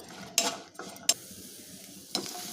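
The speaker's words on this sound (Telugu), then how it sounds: "తర్వాత అదే ప్యాన్లో పచ్చిమిర్చి వేసుకొని ఫ్రై చేసుకోవాలి" Green chillies frying in a pan, a soft sizzle under three sharp scraping stirs and clinks of a utensil against the pan, close and unaccompanied by speech.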